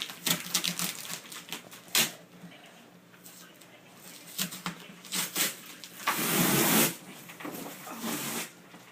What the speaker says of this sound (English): How am I supposed to get duct tape off? Just fingers.